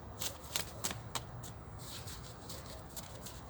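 A handmade, self-printed deck of tarot-style cards is shuffled by hand, giving quiet, quick riffling patters in a few bursts that soften into a faint shuffle, close and alone.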